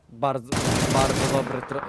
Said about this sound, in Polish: Bardzo dobrze trafiony strzał z Panzerfausta.